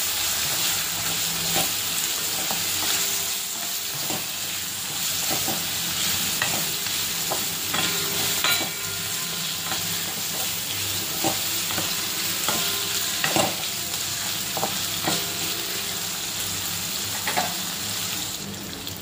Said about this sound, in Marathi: छान मिक्स करूया